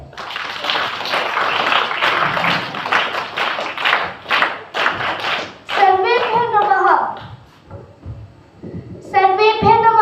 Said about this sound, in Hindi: आइए तालियों की गड़गड़ाहट से आपका स्वागत करें।